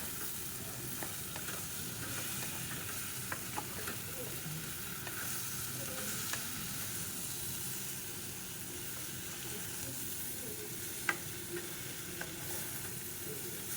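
Red lentils fry in a pan for a lentil chorchori, giving a steady, soft sizzle throughout with occasional faint scrapes and stirring clicks and no talking.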